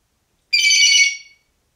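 A parrot mimics an electronic phone ringtone in one short, bright trilling burst lasting under a second, loud and close, with silence before and after.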